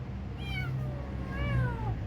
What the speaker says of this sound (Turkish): Arabanın içine kedi girmiş yine